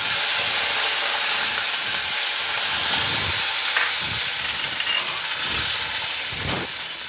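Curry leaves sizzle in hot oil in a pan, giving a loud, continuous crackling hiss with small pops throughout.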